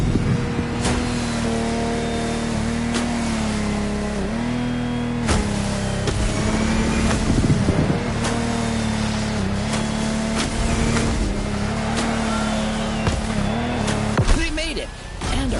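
Lamborghini Technomar powerboat racing on water in The Crew Motorfest, a continuous engine drone that wavers in pitch over about fifteen seconds, with splashes and bursts on top and occasional talk mixed in.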